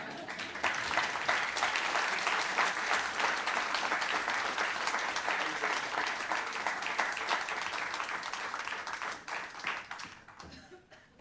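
Lecture-hall audience applauding after an inaugural professorial lecture, a dense sustained wash of many hands clapping that holds steady, then thins and fades out near the end, with a few chuckles in the crowd.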